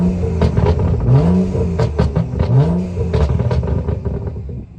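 A BMW M235i with an N55 engine in sport mode revs hard nearby, two rising engine sweeps falling back between blips, with crackles, clatter and gusty wind noise around them.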